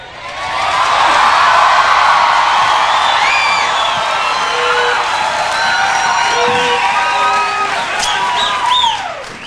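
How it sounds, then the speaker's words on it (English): A large recorded crowd at a birthday presentation cheers and whoops without pause, loud and packed, with high whistles and shouts rising out of the steady roar. "Now, listen to the reaction of the crowd here."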